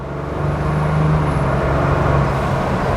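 2021 Ford Bronco with a Corsa catback exhaust revving, a close, loud, deep engine drone that swells slightly and holds steady for a few seconds.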